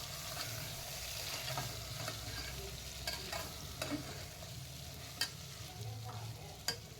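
Masala-stuffed brinjals stir-fry in oil in a pan, a soft, steady sizzle broken by sharp ladle scrapes and clacks at irregular intervals, close and without voices.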